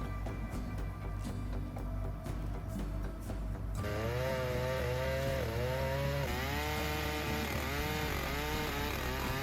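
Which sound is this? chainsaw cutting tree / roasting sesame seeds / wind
chainsaw cutting tree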